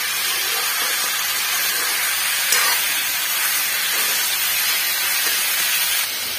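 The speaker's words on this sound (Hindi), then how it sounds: "देख सकते हैं फ्राई कर रहे हैं दोस्तों" Masala frying in a pan gives a steady, loud, broadband sizzle that hisses continuously throughout, with no voices.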